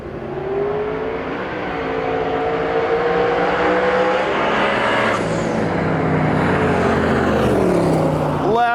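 Drag race cars blast down the strip on a dangerous race track, a loud continuous engine roar with rising revs carried throughout.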